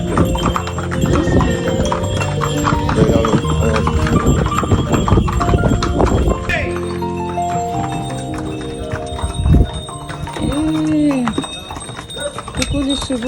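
Horses walking through a street in Santorini, their hooves clip-clopping in a steady, close rhythm with bells jingling, under people talking nearby and the occasional snort or whinny.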